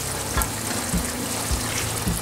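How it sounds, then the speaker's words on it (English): Kashmiri dum aloo potatoes simmering in a pot give off a quiet, steady sizzle with soft bubbling pops recurring every half second or so, with no talk. "The potatoes have been simmering for a while now."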